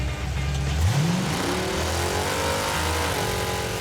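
A 700 hp Hemi V8 in a Gremlin revs hard in one loud, rising sweep, then settles into a rough, lumpy idle close by.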